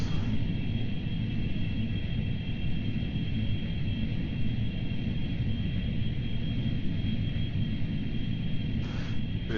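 Steady, even engine drone of a craft taxiing in the upper atmosphere in a video game, a continuous airliner-like rumble and hiss that holds level throughout with a faint hum, no talking.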